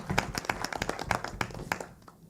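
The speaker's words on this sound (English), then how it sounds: "Let us give her a heavy clap." Scattered hand claps from a conference audience at a biosafety meeting, a thin, uneven patter of individual claps rather than a full ovation, tapering off toward the end.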